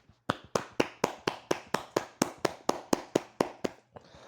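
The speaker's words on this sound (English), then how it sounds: "let me give her a round of applause right now" One person claps about fifteen times in a steady, even rhythm, each clap sharp and close, with no voices.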